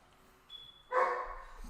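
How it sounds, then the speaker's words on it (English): A dog barks once or twice in a short burst at moderate distance, after a thin electronic chirp and under a quiet room background. "And now we got the dog barking."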